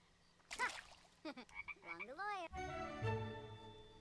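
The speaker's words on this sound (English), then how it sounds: "And she found a frog." A frog croaks in The Sims 4, with several warbling, rising-and-falling calls followed by a sustained buzzing tone, mixed with other game sounds.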